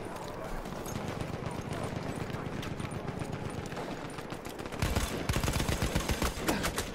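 M1917 Browning machine gun firing in Battlefield 1, a steady rapid stream of shots that grows louder and punchier toward the end, with other game noise underneath and no talk.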